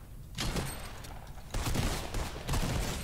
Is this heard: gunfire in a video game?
yes